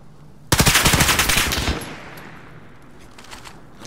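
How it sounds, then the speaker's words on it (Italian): Automatic gunfire in Call of Duty Modern Warfare battle royale erupts loudly in a rapid burst of close shots lasting about a second, then trails off into fainter echoing reports and distant shots. "Mi sparano."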